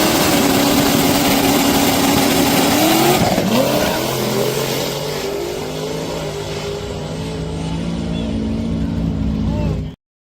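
A drag race car makes its first pass down the strip, a loud sustained high-revving engine roar with tire smoke, rising and shifting in pitch before cutting off abruptly near the end.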